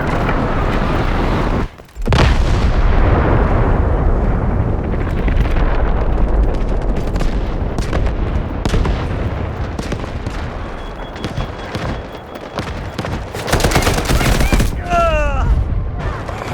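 Artillery barrage in the video game Delta Force: a dense, sustained roar of loud overlapping explosions and gunfire, with a brief near-silent break early on and a sharp whistling burst near the end.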